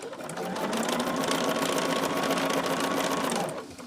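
Sewing machine stitching a seam on a charm tote, a steady rapid mechanical whir and needle chatter that runs continuously for about three seconds before stopping, close and alone.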